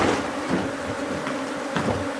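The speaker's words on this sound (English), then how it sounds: "We have a lot of guard bees here." Swarm of guard bees buzzing at a hive, a continuous low droning hum with a few closer passes rising briefly above it, moderately faint with light wind noise.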